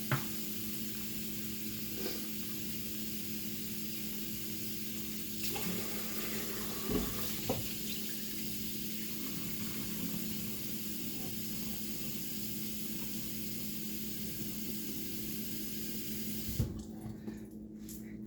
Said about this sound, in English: add water to bottle until bottle is almost full